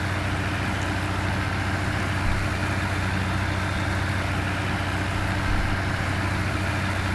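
In Farming Simulator 19, a tractor engine idles in a steady low drone, a constant even rumble with no pauses, revving or voices.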